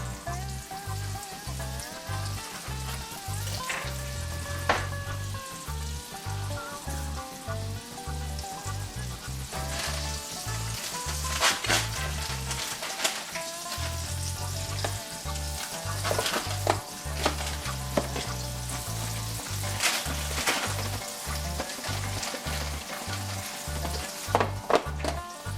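Calf liver sizzles steadily in a pan for a long stretch, a dense crackle and spatter with irregular louder pops and occasional stirring or scraping, close and continuous, with no voices.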